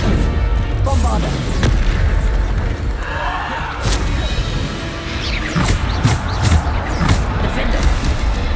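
Bombarda spell explosions in Hogwarts Legacy go off as repeated booms and bursts across the moment, several sharp blasts standing out near the end, while someone talks over the gameplay.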